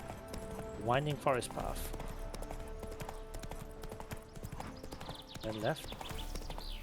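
Hooves of Roach, Geralt's horse in The Witcher 3: The Wild Hunt, clip-clop in a steady gait along a winding forest path. Someone talks over the footfalls, and a brief whinny-like call rises near the start.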